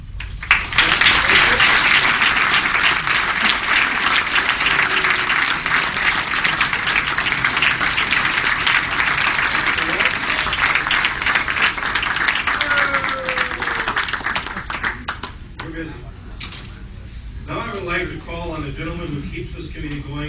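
A banquet audience at an athletics dinner gives the dining staff sustained, dense applause for about fifteen seconds, then it thins into scattered claps and murmuring voices.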